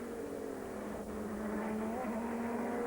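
A Lister Storm GT race car at speed on track during an FIA GT race in 2002, a steady loud engine drone with a slight pitch shift as it passes, no voices.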